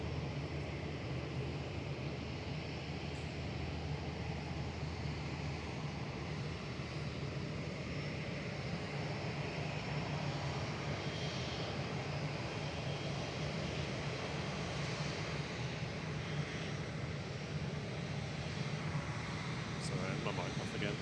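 A Cathay Pacific airliner departing Manchester for Hong Kong, its engines a steady, distant broadband roar with faint tonal hums, continuous for about twenty seconds, while a voice talks quietly over it.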